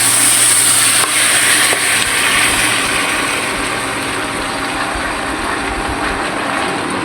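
Garlic paste hits a hot pan for a prawn and tengra fish curry with papaya, giving a steady hiss of sizzling. The sound is fairly loud and starts a little stronger before settling into an even fry, with no voices.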